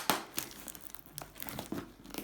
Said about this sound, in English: I'm gonna just start cutting open the box.